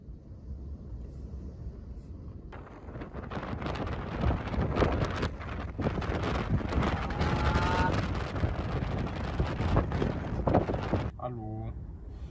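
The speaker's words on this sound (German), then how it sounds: "Krass windig geworden und unruhig draußen und regnerisch." Heavy wind roars in loud gusts against a van, mixed with a hiss of rain, and it swells strongly before dropping off near the end.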